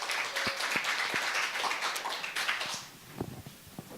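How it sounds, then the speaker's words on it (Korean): Audience applause at a humanities and arts concert after a youth a cappella musical troupe's performance, a burst of many hands clapping that fades away after about three seconds, leaving a few scattered claps. "큰 박수 부탁드립니다."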